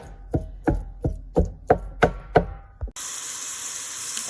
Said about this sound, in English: So I'm just going to break up the meat.